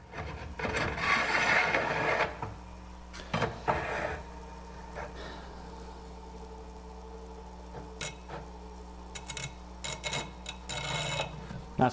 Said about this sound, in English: I'm going to switch over and work on the coarser wheel so we can do this a little quicker